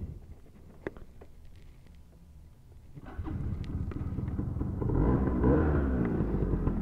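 An SYM Jet 100 scooter engine, a 2012 bike, starts after a few quiet seconds of handling: the motor catches and settles into a rough idle, growing louder and fuller as it runs close by.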